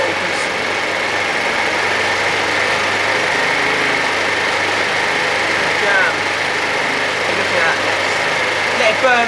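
A cheap Chinese GY6 scooter engine runs steadily after being started, a continuous buzzing idle with a light rattle, held at a constant level throughout.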